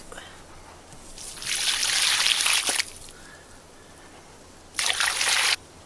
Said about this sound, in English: we're going to pour this water into the hole